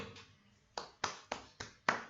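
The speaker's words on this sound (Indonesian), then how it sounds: "Kita beri tepuk tangan loh untuk Andri dan Agel" Six distinct claps ring out in a small classroom for two students, sparse and unevenly spaced, sharp and close, as if from only a few people.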